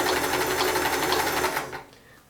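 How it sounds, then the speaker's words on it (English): A Sears Kenmore 158 series free-arm sewing machine runs at a steady rhythmic clatter while stitching fabric back and forth, close and loud, then winds down and stops near the end. "you'll hear a little bit more mechanism working inside the machine because it is working the fabric back and forth as it makes this stitch"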